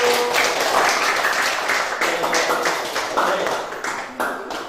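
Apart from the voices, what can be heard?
class applause welcoming group 1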